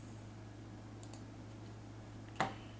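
Mouse clicks on a Windows desktop, a couple of faint light clicks followed by one sharper, louder click near the end over a quiet steady hum.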